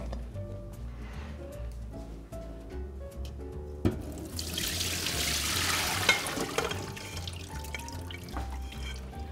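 Cooked bulgur for pasuts dolma is drained, and a rush of pouring, splashing water swells midway and runs steadily for several seconds over a low, constant background hum.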